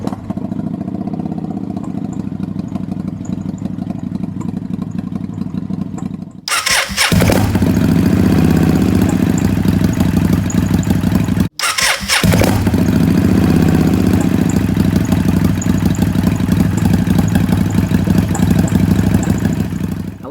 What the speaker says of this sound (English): So let's start the engine, let it warm up for just 1 minute